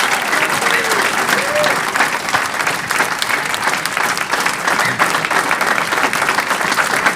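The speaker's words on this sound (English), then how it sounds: "can we get a massive round of applause for all 3 of our panelists here?" A town hall audience gives a massive round of applause for three panelists, with dense, steady clapping that holds evenly loud for several seconds, mixed with some crowd noise.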